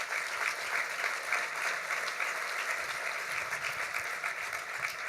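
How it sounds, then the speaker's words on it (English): Luncheon guests at the Gore Mountain ADK Challenge Award event give a sustained round of applause, an even, moderately distant wash of clapping hands with no break. "that deserves another round of applause"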